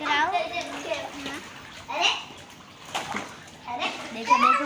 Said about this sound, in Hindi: देखो देखो हम एक दूसरे को पानी में डाल रहे हैं